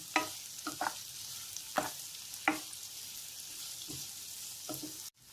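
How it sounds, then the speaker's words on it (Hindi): Onions fry to light brown for karela sabzi, a soft steady sizzle close by, broken by several sharp scrapes and clinks of stirring in the pan, with no talk. "इसमें प्याज को फ्राई करेंगे। प्याज को भी हल्का ब्राउन तक भून लेंगे।"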